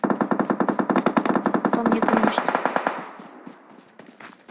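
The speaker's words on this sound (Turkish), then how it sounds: "Silah sesleri yakın." Rapid automatic gunfire in PUBG Mobile, fast evenly spaced shots that thin out and fade into scattered bursts, with a brief spoken remark over it.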